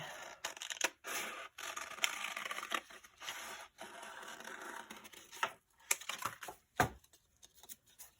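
Scissors cutting a heart shape out of folded paper, close-up crisp snips and rustles in short irregular bursts separated by brief pauses.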